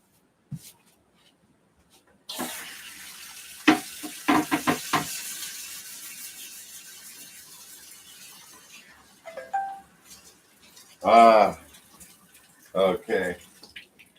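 Kitchen sink tap runs as an item is rinsed, a steady hiss of flowing water with clatters and drips nearby, followed by someone talking.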